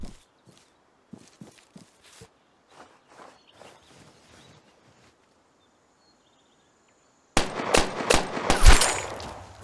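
Gunfire in the video game Vigor on Nintendo Switch comes as a sudden burst of loud, close shots near the end, following several seconds of quiet, faint footsteps and movement.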